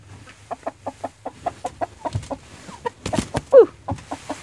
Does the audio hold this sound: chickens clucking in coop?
yes